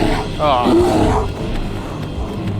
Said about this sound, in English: Are we really getting attacked by a polar bear?